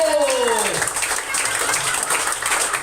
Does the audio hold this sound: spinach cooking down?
no